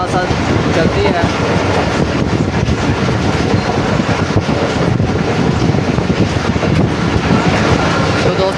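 The 10 DN Allama Iqbal Express runs at speed through Khanpur railway station, heard from on board as a loud, steady rumble with rattling wheels and wind buffeting, continuous and close.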